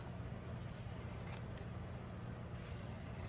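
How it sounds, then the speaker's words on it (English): Pinking shears snip through Civil War reproduction fabric, giving faint, close crunching cuts in a quick rhythm of several strokes. "with our pinking shears"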